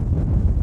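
Steady low rumbling buffeting of wind against a microphone, continuous and fairly loud throughout the short moment.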